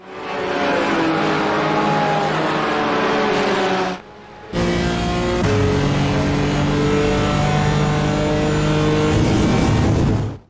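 In the iRacing game, a BMW M4 GT4 race car engine screams through the gears on a short 1.2-mile circuit, loud and continuous from the cockpit, broken by a brief drop around a shift before revving hard again.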